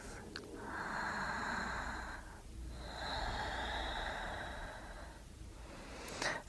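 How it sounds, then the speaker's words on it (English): Two long, slow deep breaths during yoga pranayama, close and breathy, each a steady airy rush of several seconds with a short gap between, heard alone without talk. "Deep breath."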